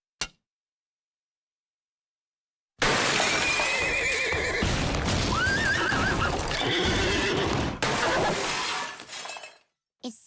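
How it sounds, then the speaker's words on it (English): A cartoon horse whinnies loudly amid a crash of breaking glass and clattering hooves as it is thrown into a room in Family Guy, followed by thuds and commotion that stop abruptly after several seconds. "by throwing an entire horse into her room"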